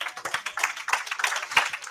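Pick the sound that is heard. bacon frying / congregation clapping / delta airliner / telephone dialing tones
congregation clapping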